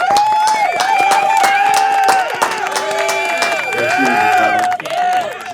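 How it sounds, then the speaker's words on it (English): Crowd cheering and clapping for Malcolm during a podcast episode with friends, lively whoops and shouted voices layered over scattered applause, close and energetic throughout. "Let's give a round of applause to Malcolm"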